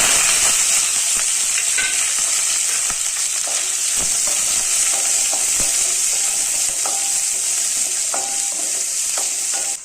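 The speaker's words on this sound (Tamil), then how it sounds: "கடுகு பொடிஞ்சதும் கட் பண்ணி வச்சுருக்கு சின்ன வெங்காயமும் கருவேப்பிலையும் போட்டுக்கலாம்" Small onions and curry leaves fry in hot oil with popped mustard seeds, making a loud, continuous close sizzle with scattered crackles and occasional stirring scrapes throughout.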